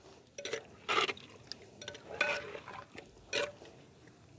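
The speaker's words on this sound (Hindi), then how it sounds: "बस ये मसाला वगैरह अच्छी तरह से उतर जाए और इसको जो है ना हिला के" A spoon stirs masala with yogurt and water in a pot for biryani, giving several wet, squelching scrapes in irregular bursts, close and moderately loud, with quiet gaps between strokes.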